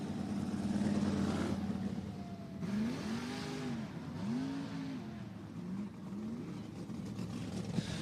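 Limited sprint cars race in a heat at Cottage Grove Speedway in Oregon, their engines rising and falling in repeated revving sweeps as the cars pass at a distance.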